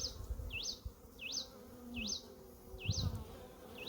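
Honey bees buzz steadily around a hive frame during a hive inspection, a close, continuous insect drone with a repeating rising whistle-like tone above it.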